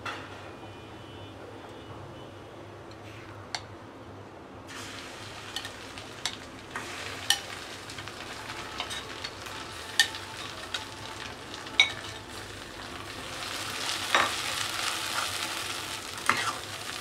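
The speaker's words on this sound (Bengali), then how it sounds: "আমি একটু হলুদ দিয়ে দিলাম তেলের উপরে।" Turmeric frying in hot oil in a home kitchen gives a quiet, sparse crackle, with scattered sharp pops over a soft sizzle that thickens slightly toward the end.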